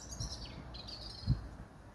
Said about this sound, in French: Un sublime parc avec toutes sortes d'oiseaux qui vous accueillent